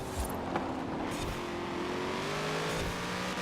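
Chevrolet Corvette Z06 engine droning steadily in Forza Horizon 4, a close, sustained roar with a slowly rising pitch as the car accelerates, a brief bump of noise near the start, no talk.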